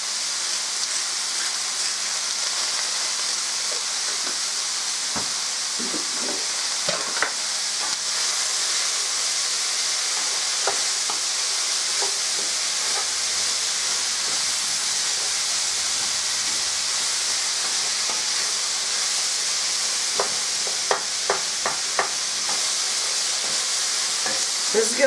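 Seasoned vegetables for turkey stuffed peppers sautéing in a pan, a steady loud sizzling hiss throughout with occasional small clicks and scrapes of a utensil.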